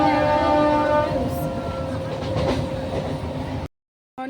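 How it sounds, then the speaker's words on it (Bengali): A passenger train ride from Bagnan station in West Bengal brings a continuous rumble and rattle of the carriages, with a tonal horn-like hum early on, before the sound cuts out to silence. "আমরা ট্রেনে করে বাড়ি চলে যাচ্ছি।"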